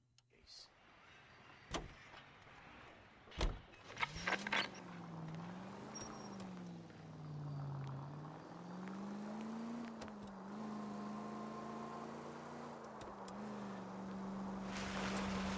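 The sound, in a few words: car driving back to the station in L.A. Noire video game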